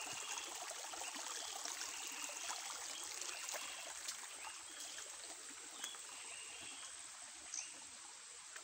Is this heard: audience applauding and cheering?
no